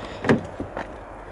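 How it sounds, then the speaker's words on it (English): Car door on a used car at a dealership opening with a short mechanical clunk and latch release, followed by a couple of softer knocks, close by with no talk. "If I just walk on over and open up the door"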